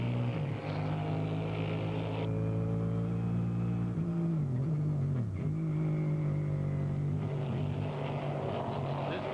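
Race cars from the 1992 Trans Am series, including a Camaro, roar past at Sears Point with a loud, sustained multi-cylinder engine drone that shifts pitch as the cars pass and change gear, continuous throughout.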